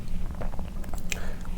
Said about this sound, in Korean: 우유에 찍어 먹으니까 빵이 훨씬 부드럽습니다.